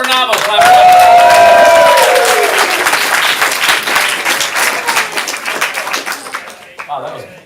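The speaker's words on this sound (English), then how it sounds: "Clap it up." Audience at a ComedySportz improv comedy show bursts into loud, dense applause with scattered cheers, the clapping peaking early and gradually thinning out over several seconds.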